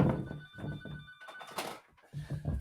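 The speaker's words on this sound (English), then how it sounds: "Did you hear that ring? I did hear it. Don't touch it. It's the phone on the train." A telephone aboard a train rings in repeated bursts, each ring clear and fairly close, with short gaps between.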